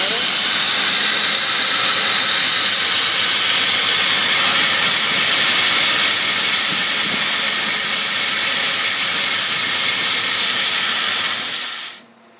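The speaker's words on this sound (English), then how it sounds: "You can start to hear the idle air control motor starting to shut down a little bit to try to adjust the idle." A cold V8 with Holley EZ-EFI idles in a 1971 Dodge Challenger, a loud, continuous roaring hiss held steady for about twelve seconds before cutting off abruptly as the engine stops.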